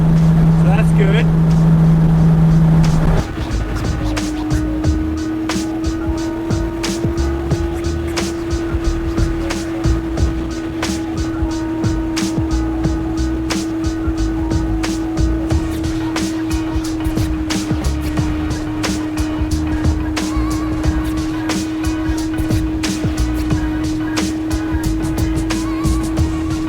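Car engine droning steadily under load as it is driven and shifted through its gears with an S1 sequential shifter, a sustained tone holding after an early change in pitch, with clicks and clatter throughout.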